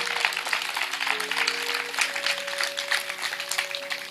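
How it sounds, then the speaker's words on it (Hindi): An audience at a spiritual talk claps together in a steady, moderately quiet wash of applause, with a sustained musical drone held underneath. "और जोरदार तालियों से स्वागत कर लीजिए अपना।"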